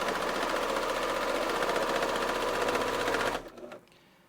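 A Pfaff Creative sewing machine runs a straight stitch with a fast, steady mechanical whir and rapid needle rhythm, close and loud, then stops abruptly near the end with a couple of small clicks.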